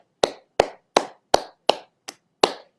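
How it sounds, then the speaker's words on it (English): Hands clapping in a slow, even rhythm, seven bright, sharp claps close up with short decays and silence between them. "we're going to clap the hands to create a bright sound"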